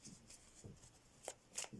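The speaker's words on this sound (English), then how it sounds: "They're coming out every time I try and shuffle." A deck of tarot-style cards is shuffled in quiet hands, with soft riffling bursts and crisp snaps of cards flicking out, close and faint with no talk.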